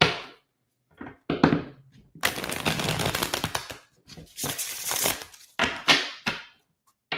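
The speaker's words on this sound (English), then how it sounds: "One more shuffle." A tarot deck is shuffled by hand during a reading, giving bursts of riffling, slapping card noise separated by short pauses, close and fairly loud.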